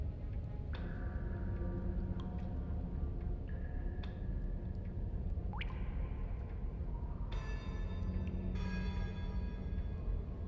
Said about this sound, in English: Why is there church bells in the background?